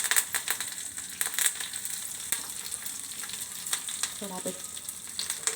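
Urad dal, dried red chillies, garlic cloves and curry leaves frying in oil, a soft crackling sizzle with scattered spits and a few scraping stirs, moderately quiet and close, no speech.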